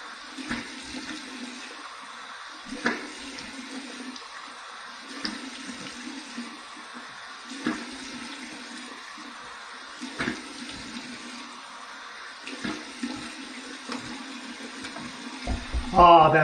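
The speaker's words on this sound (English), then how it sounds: "I just flipped it to the cold water side. Here's my cold water rinse." Cold water runs steadily from a tap for a rinse, a constant close hiss and splash broken by a few louder splashes and bumps.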